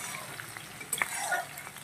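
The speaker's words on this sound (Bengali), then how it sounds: "তো পেঁয়াজটা একটু ভাজা হতে থাকুক" Onions, partly whole and partly as paste, fry in very hot oil as a soft, low sizzle with a few faint stirring clicks over a short stretch.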